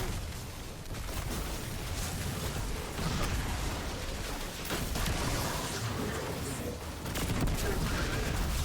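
Bursts of pulse grenade explosions crackle and pop amid continuous gunfire in the Destiny video game, a dense, steady barrage of battle noise with no voices.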